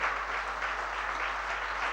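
An assembled congregation at a religious discourse in Mandi Bamora claps together, a steady, moderately distant wash of applause that holds evenly without any pause or voices.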